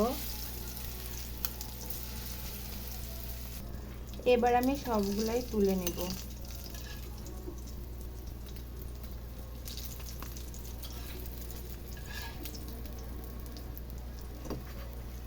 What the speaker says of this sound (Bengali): ডোটা দিয়ে আমি এখন এটার মধ্যে দিয়ে দিচ্ছি, ভাজার জন্য দিয়ে দিচ্ছি